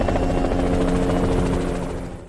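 A rescue helicopter in a zombie outbreak drama gives a loud, steady rotor chop and turbine drone nearby, tapering slightly at the end.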